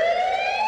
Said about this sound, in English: That's why you're gonna hear the police sirens.